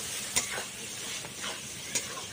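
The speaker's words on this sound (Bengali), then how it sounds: "দিয়ে ভালো করে আবারও আমি কাঁকড়া সাথে আর মশলার সাথে ভালোভাবে কষিয়ে নেব।" Fried sea crab being stir-fried with spices in a pan, giving a steady sizzle with a couple of sharp scraping clinks from the spatula against the pan.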